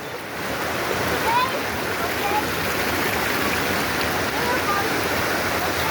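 Strong rushing water of a rain-swollen waterfall stream at Three Falls in Santa Maria, Laguna, a loud continuous roar filling the scene, with voices faintly in the background.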